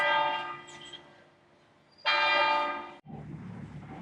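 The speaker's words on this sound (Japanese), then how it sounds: "独立当時の喜びがこの鐘の音に現れているようです" Resonant church bell strikes ring out at a church in Casco Viejo, Panama City, one decaying into a long hum before another loud stroke, followed by a lower clang.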